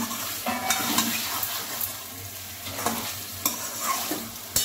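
Meat being stir-fried in a pan at home: steady sizzling with irregular scraping stirs and occasional clanks of utensil on metal, close and fairly quiet, with no talking.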